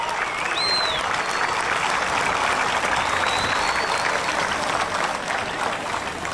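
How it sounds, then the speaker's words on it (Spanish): A dense crowd applauds steadily and loudly at a festival, cheering the first vehicle to run 5 seconds, with a few faint whistles high above the continuous clapping. "El primer vehículo en hacer 5 segundos en un festival. Y eso se merece un aplauso."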